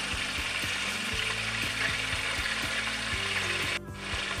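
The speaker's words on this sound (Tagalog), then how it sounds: "ipiprito muna natin yung mga pork" Pork sizzles steadily in a hot frying pan, a loud close hiss with a regular clicking, scraping rhythm from stirring, and a brief dip near the end.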